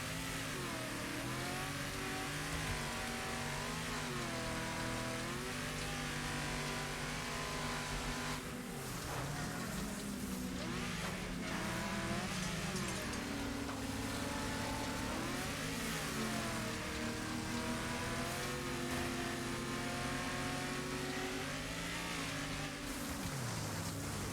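Race car engine in the video game Wreckfest, loud and continuous, revving up through gears with quick shifts and dips, pitch rising and falling repeatedly, with no talk.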